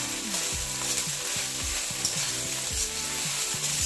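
Egg fried rice being stir-fried in a pan at home, street style, with a constant loud sizzle broken by repeated scraping strokes of the spatula in a quick, uneven rhythm.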